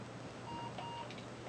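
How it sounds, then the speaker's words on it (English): Two thin, high electronic beeps from an unlicensed 8-bit Othello game on a cheap multi-game console sound in quick succession. They are faint and play over a steady background hiss. "You get that beep throughout the whole game."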